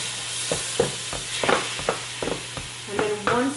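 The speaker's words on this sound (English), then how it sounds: "Just going to brown that for a bit. Just mix it all around." Ground beef browns in a pan for Puerto Rican empanada filling, a steady close sizzle broken by repeated scraping stirs, with a brief voice near the end.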